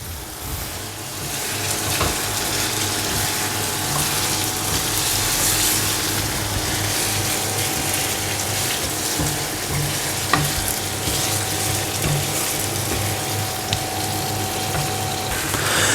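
800 grams of chicken frying in a karahi, with a steady, dense sizzle that runs throughout, broken now and then by stirring and scraping and a faint steady hum beneath.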